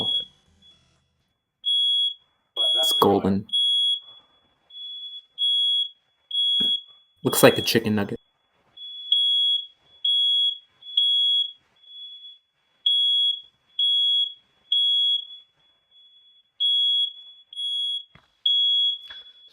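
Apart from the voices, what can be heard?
smoke alarm going off from cooking in another room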